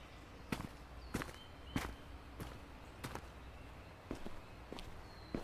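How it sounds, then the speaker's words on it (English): Footsteps in the video game Road to Vostok sound as a run of quiet, evenly spaced steps, about eight in all, faint and distinct against a low background hiss. "I hear footsteps."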